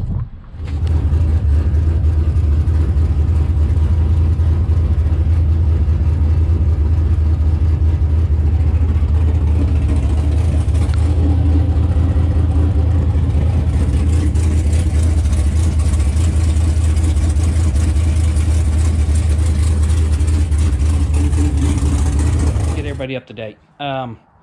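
An engine running on a gasoline carburetor during tuning, a loud, steady low rumble close by that holds for over twenty seconds before cutting off abruptly near the end.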